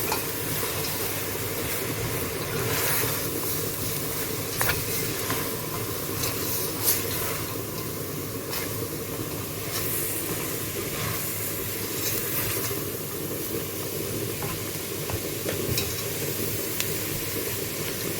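Bobotie mixture being stirred in a pot, a steady low scraping and sizzling texture that continues evenly for the whole stretch with small clinks of the spoon against the pot, no voices.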